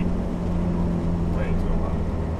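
A Toyota MR2 with a 4A-GE engine and a loud, hastily made custom exhaust drones at a steady pitch while cruising, with a person talking over it.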